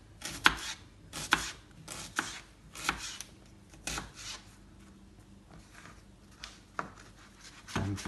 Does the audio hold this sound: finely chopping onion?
yes